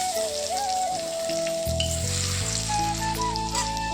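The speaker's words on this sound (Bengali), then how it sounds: "আর ওই তেলেই দিয়ে দেব কুচনো রসুন" Chopped garlic dropped into hot oil left from frying vegetables, sizzling steadily and loudly up close with a continuous frying hiss, no talking.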